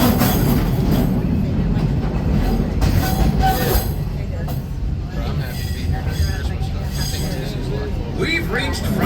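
Disney Magic Kingdom railroad train rolling along its track, a steady low rumble of wheels on rails with faint rattles and squeals throughout, with voices and narration over it.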